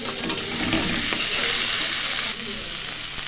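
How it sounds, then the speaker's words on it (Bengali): Boiled urad dal hits hot fried spices in a pan and gives a loud, dense sizzle. A spatula stirs through it the whole time and the frying roar eases slightly near the end. "মশলাটা ভাজা হয়ে গেছে, এখন ডাল তরকাটা দিয়ে দিই।"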